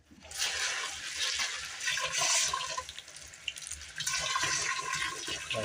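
Tap water rushes loudly into a cooking pot holding mung beans, a strong continuous splashing fill that dips briefly partway through and then surges again, close up with no talking.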